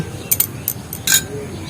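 A spoon clinks against a small bowl while honey is whisked into tulsi leaf juice, giving a few quick, bright metallic taps in short irregular clusters, close and clear.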